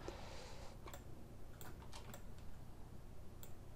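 Computer keyboard keys click in a few faint, scattered taps at a desk during 3ds Max modeling work, quiet and close, with a soft background hiss and no talking.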